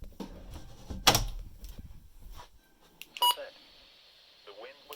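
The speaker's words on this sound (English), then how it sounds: "Actually, let me close my door real quick." A door is closed indoors with one sharp, close shut near the start, then quieter room noise and a short electronic beep.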